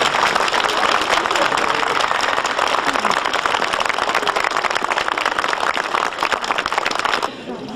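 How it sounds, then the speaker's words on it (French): An audience applauds at a 1995 Mougins community celebration of the water centenary. Dense, steady clapping holds at full strength for about seven seconds, then drops off abruptly near the end. "mais c'est Loulou Lambert, alors lui je vous demande de l'applaudir."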